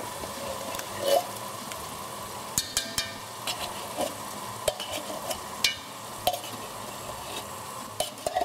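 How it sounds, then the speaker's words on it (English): Vegetable curry of cauliflower, butternut squash and sweet potato with coconut milk stirred in a pan, a low simmering sizzle broken by repeated soft clicks and scrapes of the spoon against the pan, close and fairly quiet with no talking. "Give it a good stir."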